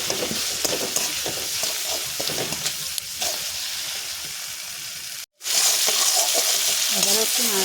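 Spices with salt and turmeric sizzle and fry in oil while being stirred for an egg curry with coconut milk, a steady crackling hiss broken by a brief silence before the frying resumes loudly.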